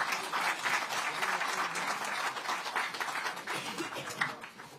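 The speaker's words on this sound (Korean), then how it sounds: "다시 한번 뜨거운 격려의 박수 부탁드립니다." Applause from an assembly at a party caucus meeting electing a new floor leader, a sustained moderate wash of clapping from the hall with no voices over it.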